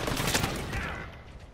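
A loud, dense burst of close-range automatic gunfire in the video game Call of Duty, fading quickly.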